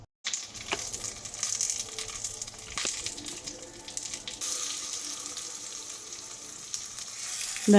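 Spices fry in coconut oil in a pan with a steady sizzling hiss and occasional stirring clicks, growing louder toward the end.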